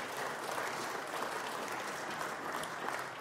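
A church congregation applauding during a sermon, dense continuous clapping from many hands that fills the room evenly and sounds somewhat distant and soft.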